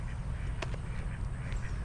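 Ducks quack by a waterside path on the Brandon Parkway Trail, a couple of faint, short quacks over constant outdoor wind and walking noise.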